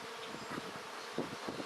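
Honey bees in a bee yard drone and buzz at close range, quietly, with a few individual bees swelling louder as they pass by in a brief, wind-touched moment.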